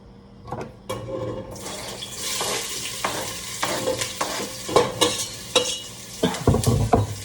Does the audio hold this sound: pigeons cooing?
no